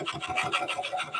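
A carbide tool cutting an oak bowl on a wood lathe, a close rhythmic scraping rasp pulsing rapidly with each rotation, fairly quiet and without talk.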